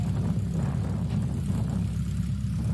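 A STOL light aircraft's engine drones steadily and loudly throughout a short-takeoff competition, a dense low rumble that holds constant with no pause.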